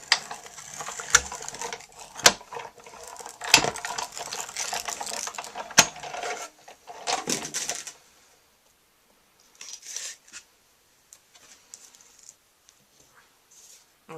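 A hand-cranked card-making die-cutting machine rolls a crisscross die through for a Stampin' Up Easter card, a run of close mechanical clicks and ratcheting knocks for about eight seconds before going mostly quiet with a few faint handling sounds.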